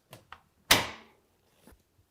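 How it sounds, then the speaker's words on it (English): A small click and latch, then a sharp clunk as a Samsung dryer door swings open, its metallic ring fading quickly, close by and alone. "So we're just going to open up our door"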